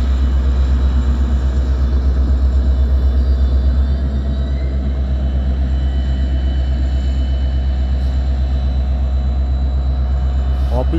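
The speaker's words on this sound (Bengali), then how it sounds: "এখানে ট্রেন যখন আসে একটা আওয়াজ হয়।" A two-storey diesel passenger train pulls into Prospect Heights railway station, a loud steady low rumble of engine and rolling wagons that holds throughout and eases slightly partway through, with no talk over it.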